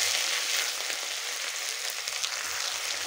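Ginger frying in hot oil with a pinch of asafoetida gives a steady, dense sizzle that carries on unbroken throughout at moderate loudness, with no voices.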